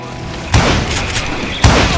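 Two heavy gunshots from the video game Call of Juarez: Gunslinger, about a second apart, each a loud booming crack with a short decay over a low background.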